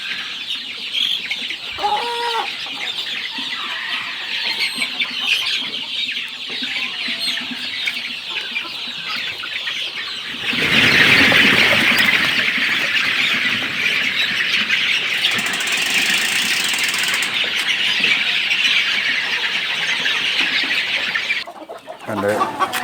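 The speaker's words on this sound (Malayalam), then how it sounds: "ഇത്രയുമൊക്കെയാണ് എൻ്റെ കരിങ്കോഴി ഇപ്പോൾ എൻ്റെ കയ്യിലുള്ളത്" Karinkozhi (Kadaknath) chickens in a pen on a poultry farm cluck close by, with a sudden burst of loud, noisy flapping midway that continues as a dense rustle under the clucks.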